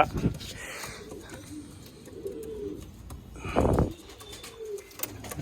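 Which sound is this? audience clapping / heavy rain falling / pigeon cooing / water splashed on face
pigeon cooing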